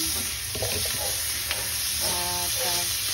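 Mushrooms hitting a hot pan and frying, a steady close sizzle with light stirring scrapes and a faint spoon clink, no voices.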